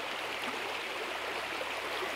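A creek flowing past a campsite in Suches, Georgia, a steady soft rush and trickle of water, continuous and fairly faint, with no talking.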